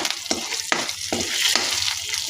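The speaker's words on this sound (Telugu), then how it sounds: "ఎండుమిరగాయలు కరివేపాకు మినపప్పు శనగపప్పు వేసుకొని తాలింపు పెట్టుకోవాలి" Dried red chillies, curry leaves, urad dal and chana dal sizzle loudly as they temper in hot oil for a chutney, with steady frying crackle and a few sharp bursts of spluttering, no voices.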